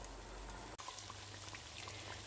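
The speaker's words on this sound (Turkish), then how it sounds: "Bir yandan kızartıyorum gördüğünüz gibi." Cheese-filled pişi dough frying in hot oil, a steady sizzle with scattered small pops, close and constant apart from one brief dropout.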